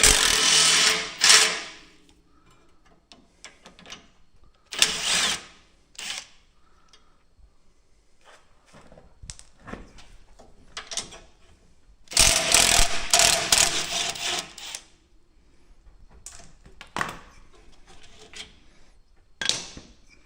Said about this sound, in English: we're going to grab this cable, we're going to pull it out the full 50 feet and get it off the drum to replace it